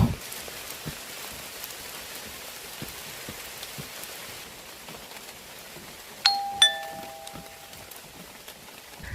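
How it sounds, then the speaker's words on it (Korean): Heavy rain falls on a mountain hiking trail near Mount Palyongsan in Masan, Changwon, a continuous dense patter with scattered nearer drops, joined about two-thirds through by two bright metallic chime-like rings. "갑자기 비가 너무 많이 내리네요"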